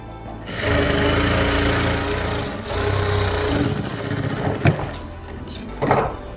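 A sewing machine stitches a shaleen or velvet suit with a size 16 needle. The motor runs close and loud in a fast, steady whirr, slowing and pausing briefly toward the end.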